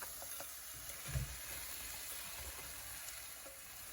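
Fish pieces going into a pan of onions for fish biran, giving a broad, steady hiss of frying with one soft thump as they land, fairly faint and continuous, no voices.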